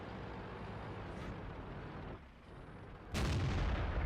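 Centurion 7/1 tank cannon firing in World of Tanks, heavy rumbling engine noise followed by a sudden loud boom near the end.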